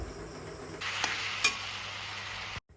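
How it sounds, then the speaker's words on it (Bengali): Ripe mango pieces frying in a pan with salt and turmeric for a Bengali-style chutney, a steady close sizzle that rises sharply partway through, with a couple of brief stirring clicks before it cuts off. "লবণ আর হলুদ দিয়ে এখন ভাজা করে নেব"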